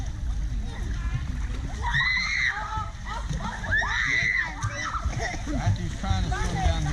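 Splashing water from a child swimming at the beach in Baler, Aurora, Philippines: steady close sloshing and splatter, with people talking over it.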